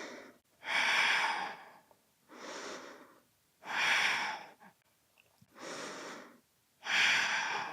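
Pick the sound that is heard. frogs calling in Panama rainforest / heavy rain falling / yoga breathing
yoga breathing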